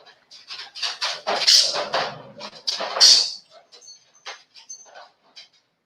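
Dogs whimpering, yelping and squeaking in short bursts while playing, fairly close, with a couple of louder cries and softer whines toward the end.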